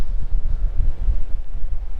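Low, steady wind buffets the microphone on a footpath at Winterton, producing a continuous rumbling roar with uneven gusts throughout.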